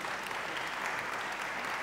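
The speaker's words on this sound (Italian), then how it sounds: "Cominciamo con un applauso, direi che se lo meritano, Paolo Martini" Steady applause from a large audience, dense and continuous clapping throughout.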